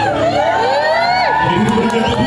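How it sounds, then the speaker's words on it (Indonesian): Guests at a village wedding in Kampung Pasir Batu cheer loudly, with whoops and shouts that rise and fall and a steady wash of crowd noise throughout. "Ini berikan tepuk tangan yang sangat meriah untuk sang raja dan ratu kita pada pagi hari ini."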